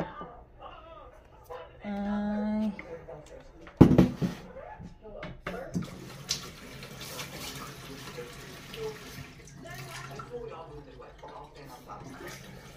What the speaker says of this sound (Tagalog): Refill tayo ng water.